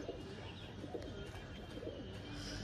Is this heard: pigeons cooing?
yes